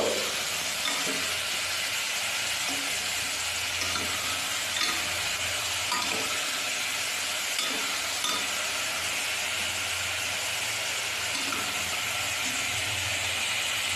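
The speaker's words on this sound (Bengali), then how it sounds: "এটা খুব ভালো করে একটু নেড়ে চেড়ে নেব।" Vegetables frying in a pan and being stirred, with a continuous sizzle and faint scattered clinks of the utensil against the pan, steady and close throughout.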